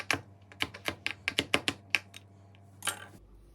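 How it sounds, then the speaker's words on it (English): A knife chopping a couple of peeled garlic cloves on a cutting board: about a dozen sharp, irregular taps in quick succession, fairly close, then a brief scraping sweep near the end, with no talking. "I'm peeling and giving a rough chop to a couple cloves of garlic"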